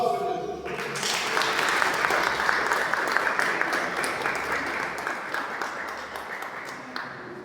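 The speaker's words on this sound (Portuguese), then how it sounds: "Aplausos" Sustained applause fills a church during a worship service, a dense crowd clapping steadily and fairly close for several seconds, with voices faintly mixed in.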